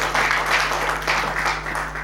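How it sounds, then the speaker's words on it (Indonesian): Congregation at a GBI Pantai Permata church service in Batam applauding, a full, steady round of clapping from many hands in a large room, loud and even over a low electrical hum. "Ya sekali lagi tepuk tangan buat Tuhan."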